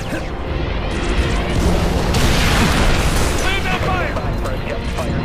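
Heavy target-locator airstrike explosions boom continuously in Halo: Reach on Legendary difficulty, a dense loud barrage of blasts and debris with gunfire and shouted combat voices mixed in.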